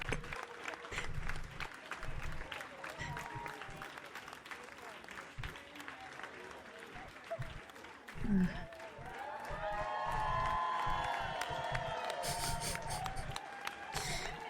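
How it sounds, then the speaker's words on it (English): Recorded crowd applause track with some cheering from the video game Slay the Princess plays faintly, swelling toward the end, mixed with scattered game sounds and a voice talking. "I love the applause track."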